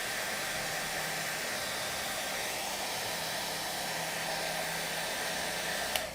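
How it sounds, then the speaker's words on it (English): A hair dryer blows steadily to dry sprayed hairspray, a loud, even rushing whoosh that holds unchanged for several seconds and ends with a brief click. "Quick little spritz, little dry, hold on. Hair dryer."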